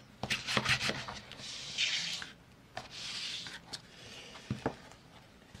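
A bone folder rubs across a folded paper page of a junk journal made from recycled Christmas cards, giving soft, close swishing strokes in several long passes with no talk.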